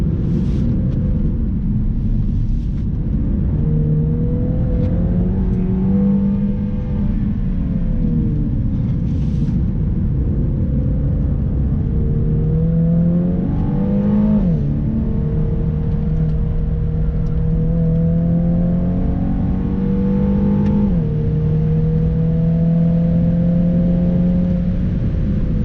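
Inside a MINI Countryman JCW with 306 hp and traction control switched off, the engine drone rises and falls through repeated accelerations and gear changes. A steady rumble of road and tyre noise runs underneath throughout.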